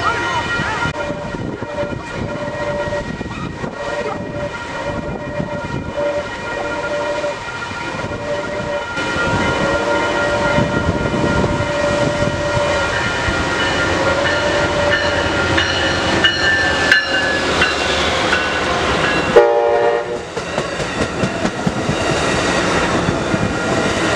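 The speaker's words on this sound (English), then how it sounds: "Wow, that train was so fast, guys." A fast train passes close by in San Clemente for about twenty-four seconds, a loud, steady rumble of rail noise with a tonal squeal rising toward the end and a brief drop before the roar resumes, with no speech.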